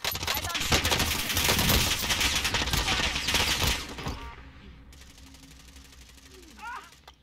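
Rapid gunfire from Call of Duty: Warzone, loud dense bursts for about four seconds, then fading into sparser distant shots with voices faintly underneath.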